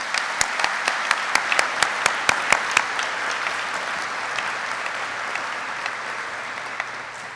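Applause for new warrant officers at a graduation ceremony: a string of sharp, evenly spaced loud claps leads off over broad crowd clapping, which then continues as a softer sustained patter.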